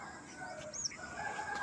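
Hen clucking in a backyard coop after heavy rain, a few short calls with one sharper crow-like note midway, close and moderately loud over steady background noise.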